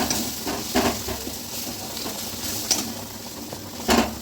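Spices being stir-fried and cooked down with a pinch of sugar and ground cumin in a pan, giving a steady sizzle with a few louder scraping stirs near the start and end, no talking.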